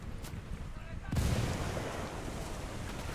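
A frag grenade goes off in a first-person shooter game, one loud low boom about a second in that rolls on into rumbling noise amid ongoing gunfire and game sounds.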